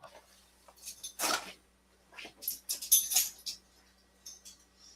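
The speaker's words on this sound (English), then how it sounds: "I heard something. I need to check on a doggy." A dog whimpering indoors in short, high, thin whines and yips, several separate bursts spread over a few seconds against a quiet background hum.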